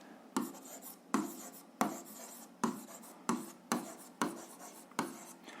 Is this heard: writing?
yes